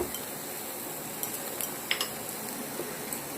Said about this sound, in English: Now onion and tomato is mixed and cooked along with the garlic and chili